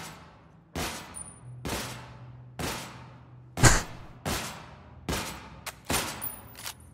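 Heavy single gunshots in the shooter game Special Forces, set in Montuyoc, ring out one at a time roughly every second, each a sharp loud crack with a decaying echo tail.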